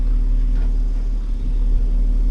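A BMW SUV crawls over rough off-road terrain, rocking on three wheels, its engine giving a steady, loud low rumble that holds throughout with no talk.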